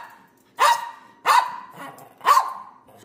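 Three sharp dog barks, spaced about a second apart, close by with short gaps of quiet between them.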